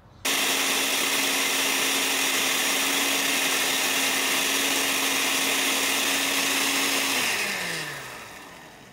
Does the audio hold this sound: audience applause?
no